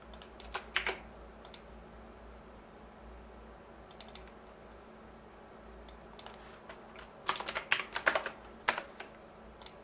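Close clicks from a computer mouse while drafting in Inventor 2022 software, arriving in quick clustered bursts of double clicks separated by quiet stretches over a low room hum.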